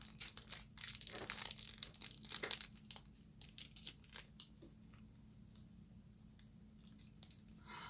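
Cake box packaging being cut open at the top, giving close crinkling and crunching of cardboard and plastic in bursts, loudest in the first few seconds and then thinning to scattered soft crackles.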